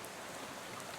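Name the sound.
rain spattering on a bus window, from video game Shadows Over Loathing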